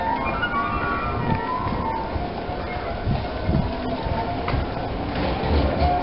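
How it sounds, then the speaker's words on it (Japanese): Gentle background music plays over the bustle of Hamadayama shopping street beside a Keio Inokashira Line station, steady and somewhat distant, mixed with street ambience and occasional clatter. "こうなんか上品で爽やかな音楽が流れてますね。"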